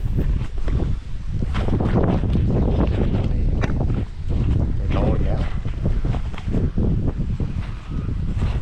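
Strong wind roars across the microphone during a fishing outing in the forest, a loud, constant buffeting rush that barely eases for the whole stretch, with a voice partly buried beneath it.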